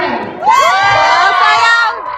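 Concert crowd in Anaheim shouting and cheering, a loud burst of high excited voices and whoops rising together and holding for about two seconds.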